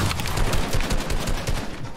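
Rapid bursts of shotgun fire in a video game, loud and close, several blasts in quick succession over two seconds with no talking.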